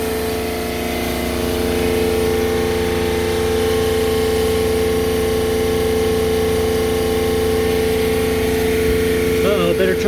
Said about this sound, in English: High pressure pump right there that comes out into the membrane.